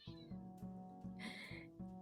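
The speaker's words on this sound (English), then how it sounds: "My cat." A cat meows close by, drawn out and repeated, while a low musical hum plays in the background.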